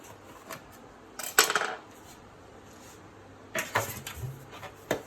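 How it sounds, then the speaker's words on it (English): Metal knife running around the edges of a baked marble cake tin, giving two clusters of scraping, clinking metal-on-metal sounds separated by a quiet pause, with a faint tap at the end. "Now I'm just going to release it from the edges with a knife."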